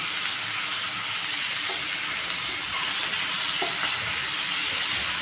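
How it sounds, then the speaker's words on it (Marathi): Onion, tomato and fresh coriander sizzle as they are sautéed in a pan for a quick onion-tomato chutney, with a steady frying hiss and occasional stirring scrapes close by and no talking. "म्हणून मी आत्ताच कोथंबीर टाकलेली आहे आणि आता परतून घेऊ आपण"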